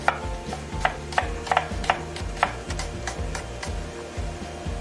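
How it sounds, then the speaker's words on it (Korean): A knife slices the white part of a green onion thinly on a cutting board, producing a run of sharp, irregular taps close by over a low background hum. "파는 다 쓰셔도 상관없는데 이제 흰 부분만 반 잘라서 얇게 슬라이스 썰어주세요"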